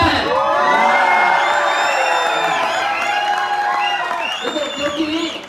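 A seminar audience whistles, claps and cheers loudly, with shrill overlapping whistles rising and falling above a dense wall of applause and shouting from a large crowd, sustained and close, slowly easing off toward the end.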